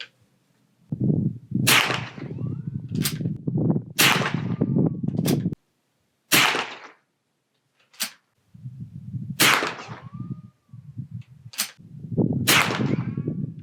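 Rifle fire from a BSA Martini International Mark II shooting Armscor ammunition at a range: about nine sharp, loud cracks spaced a second or two apart, each followed by a short rumbling tail, with near-silent gaps between some shots.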